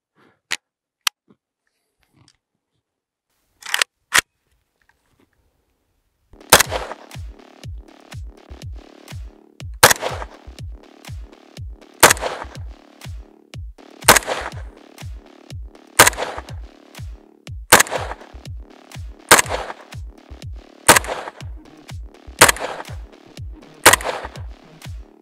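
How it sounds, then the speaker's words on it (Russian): A few sharp gunshots from a civilian AK-12 carbine, then a long series of loud, evenly spaced rifle shots with short echoing tails, fired one at a time at a steady pace. "ну что, первый выстрел"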